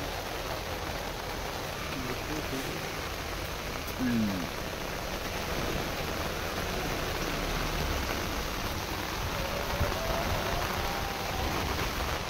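Rain falls steadily during a puja, a dense, even patter that stays constant throughout, with faint voices and other sounds mixed underneath.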